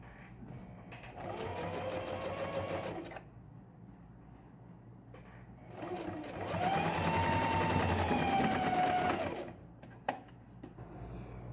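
A sewing machine stitches a straight seam on a baby jumpsuit in two steady running bursts, the second longer, separated by a brief pause, close and clear with no talk over it.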